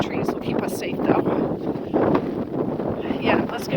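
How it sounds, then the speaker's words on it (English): A strong storm gust roars across an outdoor microphone as a steady, loud broadband rush, with a person talking over it. "That was a gust, let me tell you."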